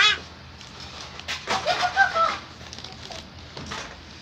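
A farm chicken clucks a few short, mid-loud calls over a low background rumble, with the calls bunched near the middle of the clip.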